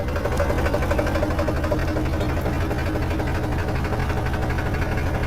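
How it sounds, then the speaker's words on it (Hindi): A tractor engine idles continuously with a low rumbling hum and fine mechanical vibration, close by and unchanging throughout. "हमारा ट्रैक्टर चालू हो गया।"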